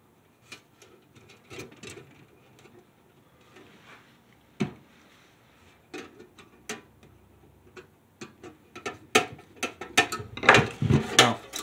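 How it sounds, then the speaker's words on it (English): Small metal vent on a tent stove worked open and closed by hand, giving irregular clicks, taps and scrapes that grow busier and louder toward the end, close up with no talk. "now you can open and close the vent"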